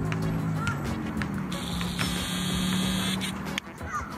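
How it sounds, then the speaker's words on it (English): A Hasselblad True Zoom camera mod's zoom motor gives a close, steady electrical whine with a tonal buzz that holds for several seconds and then shifts briefly near the end. "ne očekujte da ćete taj video snimak moći da iskoristite kad radite zoom out iz jednostavnog razloga što mikrofon hvata i motor"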